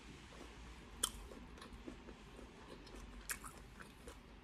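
Giant colossal tiger prawn being eaten up close, with soft steady chewing and a couple of sharper bites over a low background hum, no talk.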